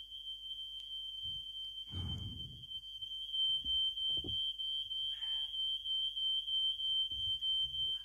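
A home fire alarm beeps in a steady high-pitched tone throughout, fairly faint, with scattered low thumps and rustling nearby and no talking.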